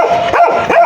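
Loud, close dog barks come in quick repeated yaps, about three sharp calls in under a second, with a noisy outdoor neighborhood in Baguio behind them.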